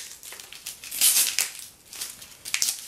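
A heavily taped package is torn open by hand, with close, irregular bursts of crinkling and ripping tape and paper over a few seconds.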